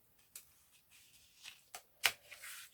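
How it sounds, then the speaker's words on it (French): Faint, brief crackling rips of adhesive tape being peeled off a scrapbook album page, a few short bursts with quiet pauses between them. "j'enlève le scotch"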